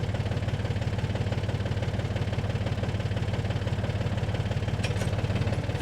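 A tractor engine works steadily at a garden fencing job, a loud continuous low rumble with a constant mechanical throb and no voices.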